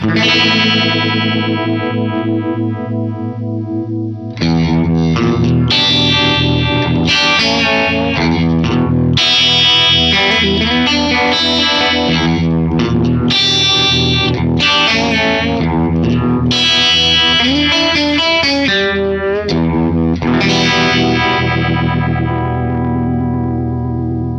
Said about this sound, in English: let's hear the Univibe, and it's mapped to this expression pedal here